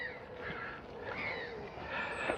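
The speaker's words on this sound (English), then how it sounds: "Listen to the bird song" Crows caw amid a steady wash of birdsong in a wooded dell beside a waterfall, with continuous rushing water noise underneath the fairly close calls.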